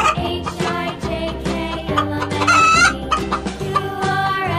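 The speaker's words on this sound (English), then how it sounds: "H for hen." A hen clucks and crows in a children's phonics song, loud, repeated calls layered over a bright musical backing.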